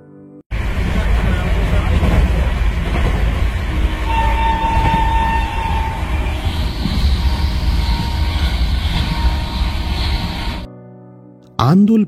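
Sealdah–Puri Duronto Express running at about 130 km/h, a loud, continuous rumble and roar of the train throughout with a sustained tonal whine, then a sudden cut to near quiet and a brief burst at the end.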